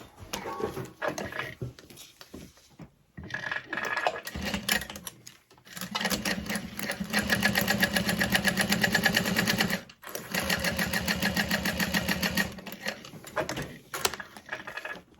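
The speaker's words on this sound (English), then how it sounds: "we're gonna top stitch 1/8 of an inch around that overlay" A sewing machine top-stitches around the overlay on a tote bag, running in steady whirring bursts with pauses between, close up, while a dog whimpers and pants faintly nearby.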